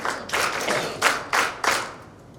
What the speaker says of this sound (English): Good round of applause for her.